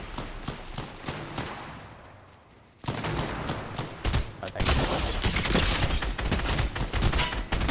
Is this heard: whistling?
no